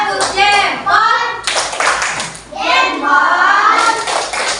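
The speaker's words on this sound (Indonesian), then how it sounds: "Tepuk jempol." Children in an Indonesian classroom do a rhythmic group clap-and-chant routine, bursts of loud clapping mixed with their voices calling together.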